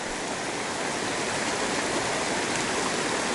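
Lake Fork, a mountain stream near Leadville, Colorado, rushes with a steady, loud broadband water roar heard up close, continuous and unchanging throughout.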